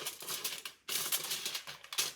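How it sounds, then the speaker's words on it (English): Scissors slicing through a sheet of aluminum foil give a close, crisp, crinkling rustle that runs almost continuously, broken by one short pause midway. "taking the scissors, just gonna go ahead and cut"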